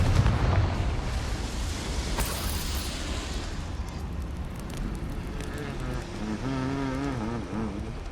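A Confringo spell blast in Hogwarts Legacy erupts as a loud, rumbling fiery explosion that swells and slowly fades, followed by lingering crackles and a tonal hum, with a voice speaking over it.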